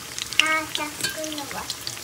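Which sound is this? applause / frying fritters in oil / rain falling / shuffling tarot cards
frying fritters in oil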